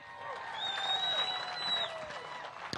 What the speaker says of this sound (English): I got a lot of people here cheering